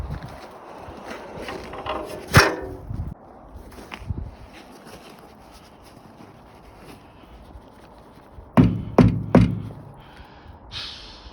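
A small impact wrench works greasy old nuts and bolts at a workbench, giving one sharp burst early and then a cluster of three rapid rattling hits near the end, with quieter clanks and shop noise between.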